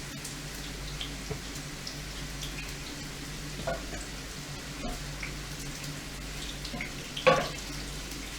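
Egg rolls frying in hot oil, a soft continuous sizzle and crackle with a low steady hum underneath and a brief louder pop near the end, no talking.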